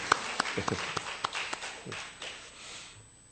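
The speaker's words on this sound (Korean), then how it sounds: "우리 격려와 축복의 박수 부탁드립니다" Scattered clapping from a church congregation during a Sunday afternoon service, a handful of distinct sharp claps that quickly fade out, fairly quiet and slightly distant.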